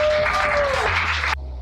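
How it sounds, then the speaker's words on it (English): Dense audience applause fills the room as a steady wash of clapping, with a tone gliding downward beneath it, then cuts off abruptly to a quieter background. "So please give yourself a round of applause."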